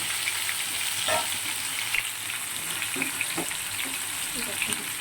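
Potatoes, taro and tomato frying in oil with black and white cumin tempering: a continuous loud, close sizzle with scattered pops and faint stirring clinks.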